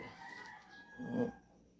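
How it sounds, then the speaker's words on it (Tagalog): A sick backyard chicken with a cold gives a brief, faint, rattling wheeze, one short raspy breath standing out from quiet background hiss. "Mga halak ng manok ko guys"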